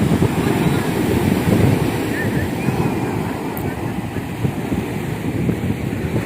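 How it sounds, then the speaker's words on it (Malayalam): Strong wind buffets the microphone in a constant low, roaring rush that never lets up, with no clear voices rising above it. "നല്ല കാറ്റുണ്ട് കേട്ടോ അതുകൊണ്ട് ഒന്നും ചിലപ്പോൾ കേൾക്കാൻ വഴിയില്ല"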